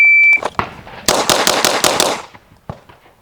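Staccato P pistol firing at a shooting range, a shot-timer beep followed by a fast string of about eight loud, sharp close-range gunshots, then a couple of later shots.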